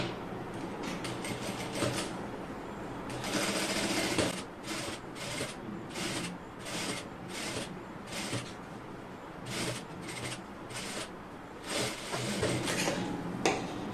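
A sewing machine stitches a cross piece onto a neckline in short bursts of rapid mechanical whirring, stopping and starting several times, close and moderately loud.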